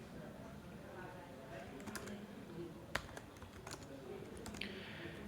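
Keys tapped on a computer keyboard while a paragraph is typed during a web-coding lesson, a loose run of faint clicks with a few sharper strikes, low and close amid steady background noise.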